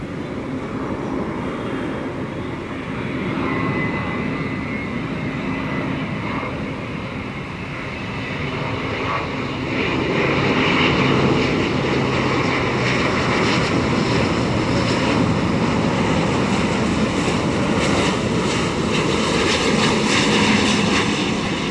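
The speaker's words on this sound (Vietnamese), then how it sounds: "mời mọi người chiêm ngưỡng và hạ cánh của Airbus A350-900 này nha" A Vietnam Airlines Airbus A350-900 airliner lands at Tan Son Nhat airport, a loud continuous jet engine roar that swells and stays heavy throughout, with a broad rushing hiss and no talking.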